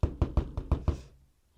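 Six quick, evenly spaced knocks as a freshly poured plaster mold is tapped to drive out air bubbles, each hit sharp and close, ending in a short fading tail.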